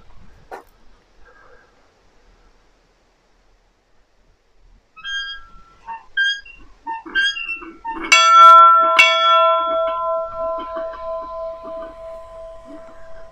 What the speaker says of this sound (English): there's this really old bell here